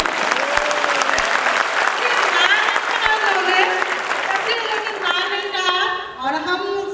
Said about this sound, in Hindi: एक ताली तो उनके लिए बनती